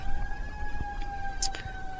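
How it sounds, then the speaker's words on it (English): An emergency vehicle siren wails steadily in the background as a faint, sustained tone over low room noise, with a few soft knocks and a brief hiss. "you can hear a siren on the background."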